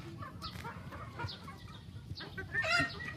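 Young pullets cluck in a series of short, close, overlapping calls on a big Philippine breeding farm, with a steady farmyard murmur underneath.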